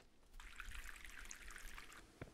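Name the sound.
water pouring into the dog bowl in the video game Mon Bazou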